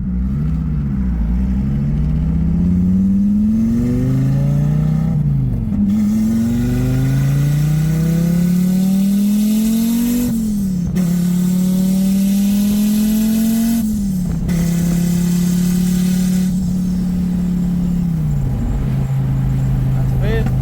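A car engine drones close and loud as it accelerates through the gears after a clutch slave cylinder repair, the pitch rising in repeated sweeps and dropping at each shift, with speech faintly under it.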